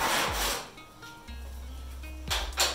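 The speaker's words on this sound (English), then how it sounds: "Not the best scraper in the world." A scraper drags over white paint that aircraft paint remover has barely softened, giving two short, close rasping scrapes, one at the start and one at the end, with a quieter low hum between them and no talking.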